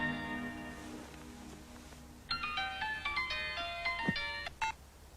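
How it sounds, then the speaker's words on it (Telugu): A phone ringtone plays a bright, electronic melodic tune in short repeating phrases, starting after a quiet stretch and sounding fairly close. "ఫోన్"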